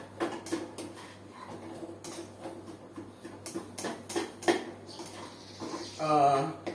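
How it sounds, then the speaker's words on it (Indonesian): A utensil scrapes and taps in a pan as nasi goreng fried rice is stirred, with irregular close clinks and rustles, and a brief sizzling burst near the end. "Kemudian kita aduk."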